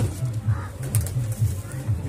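Punjabi breed pigeons coo in a loft, low rolling calls repeating in a steady rhythm at close range, with someone talking intermittently over them.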